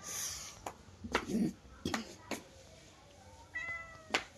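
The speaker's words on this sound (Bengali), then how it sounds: "দেখুন পুষিটা কেমন করছে" A cat meows a few times in short, clear calls close by, with a higher drawn-out mew near the end and faint household noise around it.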